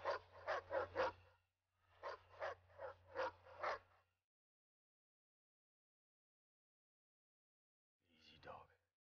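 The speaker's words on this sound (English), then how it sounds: "Easy, dog. Don't bite." Dog barking in the Mad Max video game, two quick bursts of four sharp barks each followed by a pause and a softer single bark-like sound, close and clear against silence.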